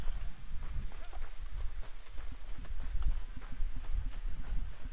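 Steady clip-clop of horse hooves pulling a hunting wagon up in a video game, rhythmic hoofbeats close by with a low rumbling bed beneath.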